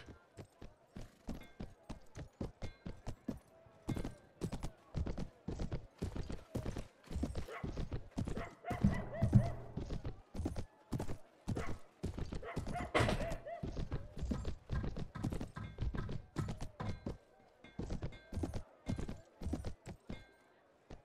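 Donkey hooves clip-clop in a medieval fantasy video game, a fast, steady run of sharp, close hoofbeats that continues for the whole stretch, briefly easing before picking up again.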